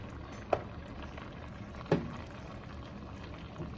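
A pot of Jamaican rundown with saltfish and vegetables simmering down, giving a low steady bubbling hiss broken by two or three louder pops and splutters.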